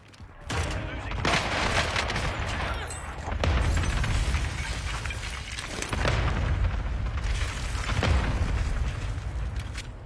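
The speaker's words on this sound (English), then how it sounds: "Why'd he call an airstrike on himself?" Airstrike explosions in a video game: a series of heavy booms and rumbling blasts roll in waves, loud and dense, with gunfire-like crackle mixed through and no clear voices over them.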